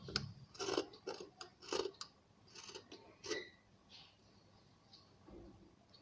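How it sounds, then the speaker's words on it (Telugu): Scissors cutting away extra blouse cloth by hand, with a handful of quiet, irregular snips and rasps close by, then trailing off into near silence. "ఇప్పుడు ఈ విధంగా సైడ్ వేసుకొని మనం ఎక్స్ట్రా క్లాత్ని కట్ చేసుకోండి"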